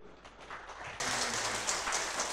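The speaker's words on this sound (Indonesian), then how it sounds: "Kita berikan tepuk tangan dulu." A talk show audience applauds, clapping breaking out suddenly and holding as a dense, steady patter of many hands.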